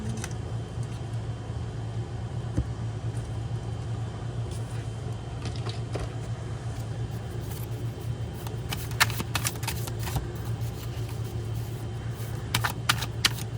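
Tarot cards are shuffled nearby, soft repeated riffling and flicking bursts that grow busier toward the end, set against a steady low hum.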